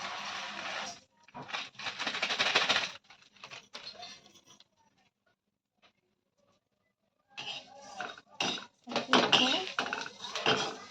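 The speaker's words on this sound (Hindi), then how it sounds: "ज़्यादा फास्ट गैस में स्लो करके ऐसे से कुछ चलाएंगे, एकदम लाल कर देंगे" Vermicelli stirred and roasted in a hot kadhai over a gas flame, heard as close scraping and clinking of a utensil against the metal pan in irregular bursts, with a quiet pause in the middle.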